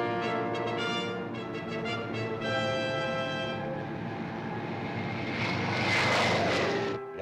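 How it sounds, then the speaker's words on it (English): Military aircraft roar overhead with a loud, sustained engine drone layered with steady tonal whines, swelling into a rushing blast of noise as they pass close, with no voices. "Military planes."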